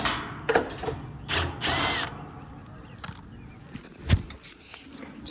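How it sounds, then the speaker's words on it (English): A power drill fitted with a Malco 2-in-1 nut driver removes a screw on an HVAC condensing unit, with a few short whirring bursts close by, the longest about a second, and quiet clicks and handling noise between them. "Just got a bunch of new of these Malco 2-in-1 nut drivers."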